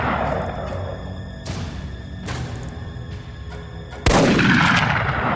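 Film gunfire with several sharp loud shots, one at about 1.5 s, another near 2.3 s and a heavier blast at about 4 s, each followed by a decaying echo, with no speech.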